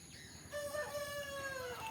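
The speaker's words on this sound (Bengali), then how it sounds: "ওই যে মুরগি ডাক দিচ্ছে।" A rooster crows once at a distance on a Sundarbans homestead, a drawn-out rising and falling call over quiet rural background, no voices.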